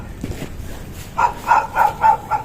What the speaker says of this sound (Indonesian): Anjingnya itu menggonggong terus.